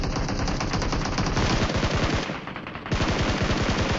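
Rapid automatic gunfire rattles in steady loud bursts with one short break during a team fight in an online shooter game, dense and continuous, with no talking.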